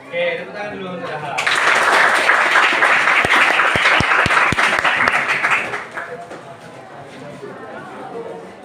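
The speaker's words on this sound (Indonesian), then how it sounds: "tepuk tangan dulu saudara" A classroom audience during an Indonesian teaching exam lesson on anecdote texts bursts into loud, sustained applause for about four and a half seconds over room chatter, then it fades back to a low murmur of voices.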